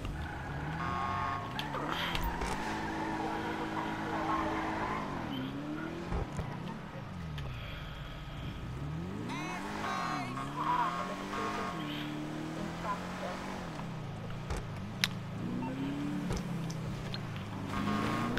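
Tractor engine in GTA 5 driving along with a steady low drone that rises and falls in pitch, joined by reversing beeps and other vehicle noise, with brief speech in the background.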